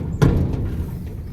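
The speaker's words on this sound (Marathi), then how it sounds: "आता दरवाजा उघडूत" A metal gate at a poultry farm is pushed open with one sharp clank near the start, followed by a low, steady rumble of outdoor background.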